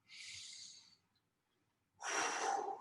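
Two long, airy exhalations during a yoga stretch, the first soft and steady, then a pause of near silence before a second, louder and fuller breath out close to the mic; no talking.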